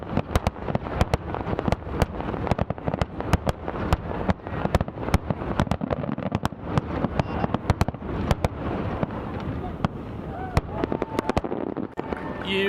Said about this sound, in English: How about the Magic Kingdom fireworks?